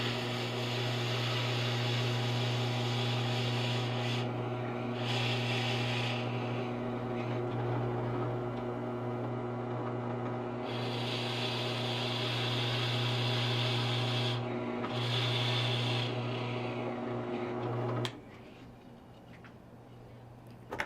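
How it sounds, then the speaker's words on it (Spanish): An electric drill bores perpendicularly into the edge of a piece of wood for a hidden screw joint. It gives a steady, close motor whine for about eighteen seconds, its pitch wavering slightly under load, then stops abruptly. "Y luego voy a perforar perpendicularmente por esta orilla."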